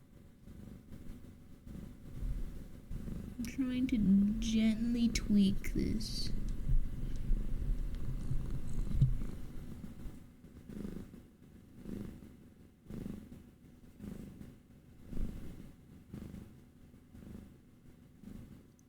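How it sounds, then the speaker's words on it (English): Two cats, Miku and Sakura, purr in a low, soft continuous rumble up close, while a person whispers and speaks quietly over it at times. "Do you guys hear the difference in the purrs between Miku and Sakura?"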